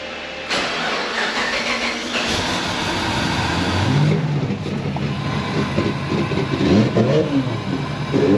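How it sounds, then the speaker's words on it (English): A V8 race car with an LSA supercharger, street-driven on a public road to the track, rumbles loudly and steadily as it accelerates, with the engine note rising and falling through gears. "Yo, driving race cars down the road."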